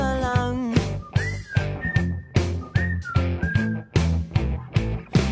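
Melodic whistling, in short rising notes over a rhythmic pop song with steady drums and bass.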